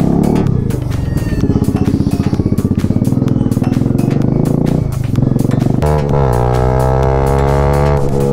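A motorcycle engine runs close and loud with a pulsing, throbbing idle, then is revved hard into a steady rising whine that drops back near the end.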